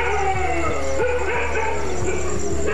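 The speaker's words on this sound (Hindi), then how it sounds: "कुत्ते शेरों को देखते ही भौंक भौंक कर पूरे गांव को खबरदार कर सकते हैं।" Several village dogs bark, yip and howl in an agitated chorus, loud and close, with repeated sharp barks over a continuous background of whining and howling.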